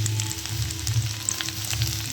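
Shukto vegetables fry and sizzle steadily in a pan while being stirred, a close, continuous crackle with soft scraping throughout.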